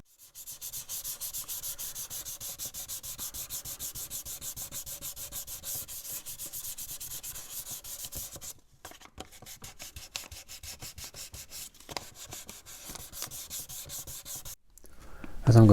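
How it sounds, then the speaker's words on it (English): Fine 1000 grit sandpaper rubs across wood on an HMS Victory model ship's stern, a rapid, rhythmic scratchy back-and-forth close up, pausing briefly twice before resuming. "I'm just moving on to 1000 grit. I'm just going to get a finer sand."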